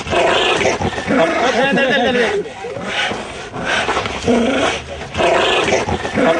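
Pit bulls snarl and growl in a loud, continuous fight, with rough rasping bursts and brief pauses between flare-ups; voices are mixed in.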